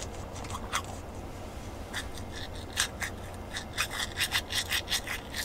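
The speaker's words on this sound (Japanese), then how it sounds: "歯磨いてる？" A toothbrush scrubs teeth in a camper van at night, giving close, rhythmic scratchy strokes that speed up into quicker repeated bursts toward the end.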